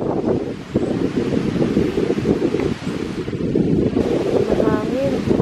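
Strong wind buffeting an outdoor microphone in a rural American yard, a loud continuous roar that gusts unevenly throughout, with a person briefly audible.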